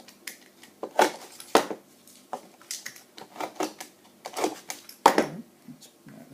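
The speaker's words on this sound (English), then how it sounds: "Let's just see if they'll cut with a knife better" Small knife clicks and taps while cutting tiny parts for an OO gauge model goods shed, a series of sharp close ticks and scrapes spaced irregularly on a hard surface.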